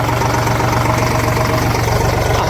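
A tractor engine idles close by during manure loading on a farm, a loud, steady chugging rumble with an even, rapid low pulse throughout.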